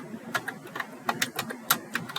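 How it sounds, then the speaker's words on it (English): Typing on a computer keyboard comes as a quick run of light, irregular key clicks. They are close and fairly crisp, with brief pauses between bursts, and no speech. "we're going to just start typing in here expenses"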